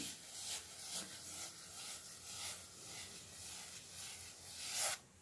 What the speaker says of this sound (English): And then I'm going back in with circular motions to make sure that I have the paint worked into all of the little